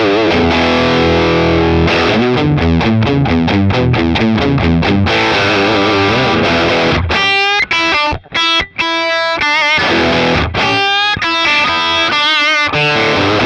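Heavily overdriven electric guitar through a Mad Professor Sweet Honey overdrive pedal into a slightly gained amp plays loud distorted chords and riffs, with brief pauses and ringing sustain between phrases.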